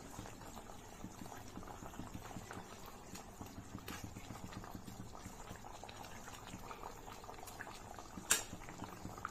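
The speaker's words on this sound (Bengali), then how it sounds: "ঝোলটা ফুটে উঠেছে, এবার মাছগুলোকে আমি দিয়ে দেব।" A pot of mustard fish curry gravy simmers at a steady rolling boil, with a continuous bubbling texture and one brief louder knock near the end.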